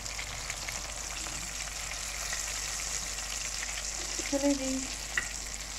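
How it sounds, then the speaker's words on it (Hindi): Fish sizzles steadily in hot oil in a pan, a continuous bright crackle with a few louder spatters near the end, and a brief spoken remark. "इस तरह से मैं सब अपनी फिश को फ्राई कर लूँगी"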